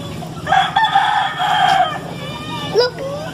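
A chicken loose near a shop in Naic, Cavite, Philippines gives a drawn-out crowing call followed by a short rising squawk, close and fairly loud over faint background noise.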